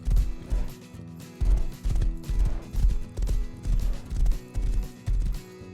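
Horse hooves gallop in the survival video game Rust, a steady rhythmic clip-clop of repeated thuds, close and prominent with no talk over it.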